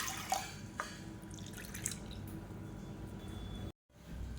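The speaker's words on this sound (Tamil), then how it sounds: "அதே கப்பில் அதில் ஒரு 5 கப் அளவுக்கு தண்ணி சேர்த்துக்கலாம்" Water is poured into a cup holding rice and moong dal for sakkarai pongal, giving a few close drips and trickles and a soft splashy pour before a brief dropout near the end.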